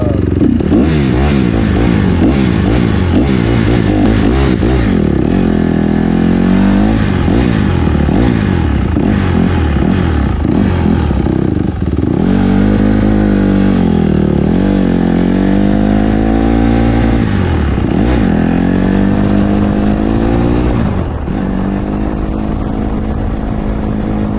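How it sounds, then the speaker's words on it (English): A dirt bike engine idles and revs continuously while warming up, loud and close, its pitch rising and falling in waves with some mechanical clatter throughout and no talk. "we're gonna let it warm up right now. So the dirt bike does smell pretty burnt after turning it on"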